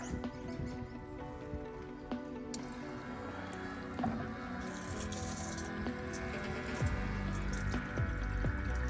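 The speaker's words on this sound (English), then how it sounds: "I'll put it up on top of the motor, and then I just pour it just feed it right in" Coolant poured into a truck engine's reservoir from on top of the motor, a steady close liquid pour and gurgle with some squishy, dripping sounds and handling noise, no talk.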